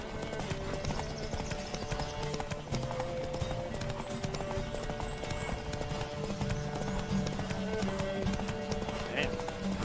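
A horse galloping in The Witcher 3, with steady rapid clip-clop hoofbeats running throughout, layered with game music and ambience.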